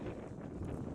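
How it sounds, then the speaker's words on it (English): Steady wind rushes and buffets against the microphone ahead of an incoming storm, a low continuous roar with no voices. "It's windy because we have a storm coming in."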